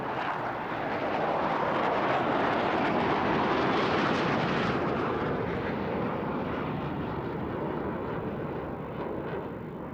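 Four Canadian Forces F-18 jets fly past in missing man formation at RAF Cottesmore, a loud, sustained broadband jet roar that swells and holds for the whole pass, with no talk.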